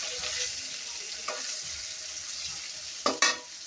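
Rohu fish pieces fry in hot oil in a village kitchen, giving a steady close sizzle with a couple of brief louder spatters near the end.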